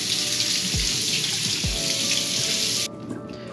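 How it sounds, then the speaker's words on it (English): Leeks rinsed under a running kitchen tap, a steady close hiss of flowing water with a couple of soft thuds as they are handled, the stream shutting off near the end. "So I'm gonna wash these really quick"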